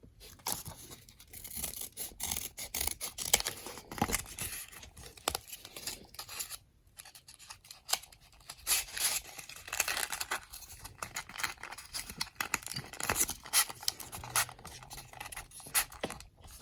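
Corrugated cardboard being cut along a drawn line, a faint, close series of irregular scratchy snips and tearing rasps with short pauses between strokes, no voices.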